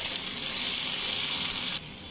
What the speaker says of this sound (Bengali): কয়েক সেকেন্ড ভাজা হতে দেবো